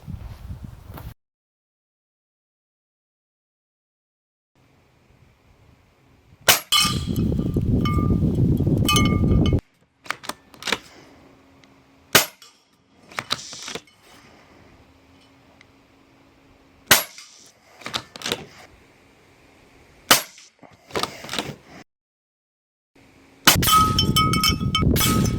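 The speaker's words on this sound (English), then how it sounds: "I'm gonna go ahead and annihilate my bell right here. I'm gonna put 9 shots on this" Airgun Technology Uragan bullpup PCP air rifle shots hitting a metal bell target at 40 yards: a series of sharp cracks, each followed by a ringing metallic clang. The shots come at irregular intervals with quiet gaps between them and no talking.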